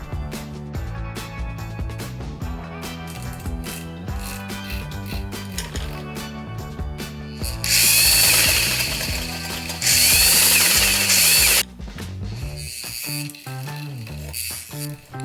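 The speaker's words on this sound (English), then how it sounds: "just sewing together those armhole facings" A vintage sewing machine stitches dress armhole facings, its steady mechanical clatter running under background music and swelling louder in two sustained bursts near the middle.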